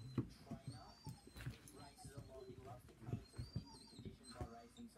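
A dog whimpers and gives high thin squeaks in short repeated bursts, close by and fairly quiet, with a person speaking now and then in between.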